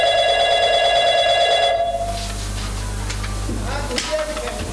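A telephone rings at home with a bright, rapidly repeating electronic trill for nearly two seconds, then stops, leaving a low hum and faint background sounds.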